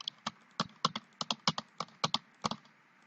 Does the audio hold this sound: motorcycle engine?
no